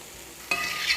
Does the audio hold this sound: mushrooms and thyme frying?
yes